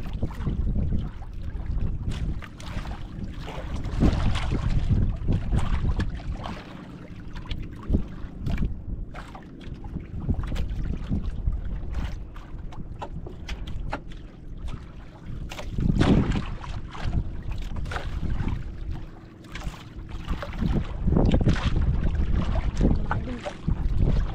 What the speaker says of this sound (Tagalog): Malapit na bangka mga idol.